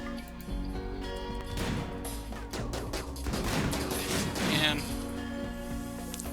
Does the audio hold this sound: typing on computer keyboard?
no